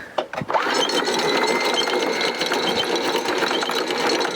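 A boat's anchor windlass, recently serviced after being broken, whirs steadily and quickly after a few clanks at the start, a continuous rattling, ratcheting drone close by.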